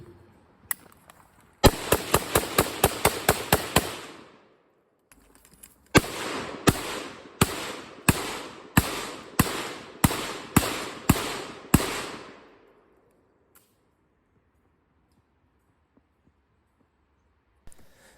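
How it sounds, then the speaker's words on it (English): Two SKS rifles fire side by side outdoors in two rapid strings of sharp, loud shots, each with a short echoing tail, followed by silence. "a good comparison between two rifles that seem so similar. And that's to shoot them side by side."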